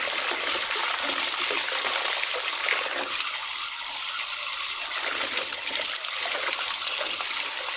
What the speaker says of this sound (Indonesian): kita kocor pakai air keran biar benar-benar sabunnya ini hilang